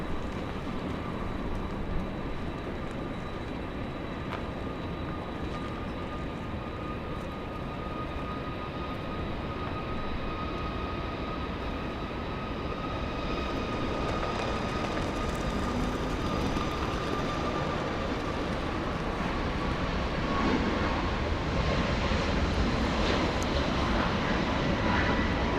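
A Southwest Airlines jet departing LAX for Oakland sends out a steady, close engine roar with a whining tonal edge that holds for the whole stretch and swells slightly toward the end.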